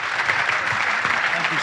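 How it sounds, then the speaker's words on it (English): Audience applause at an evening event with a football manager: a short burst of dense, steady clapping from a large crowd, loud and continuous throughout. "keep the applause going, ladies and gentlemen"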